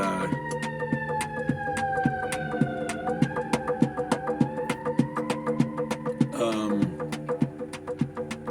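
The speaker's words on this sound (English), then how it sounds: "There's the sirens." A wailing siren sweeps slowly up and down, held steady and fairly loud, with a rhythmic clicking pulse running underneath it.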